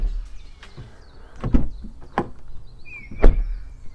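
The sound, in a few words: Audi Q5 car door shutting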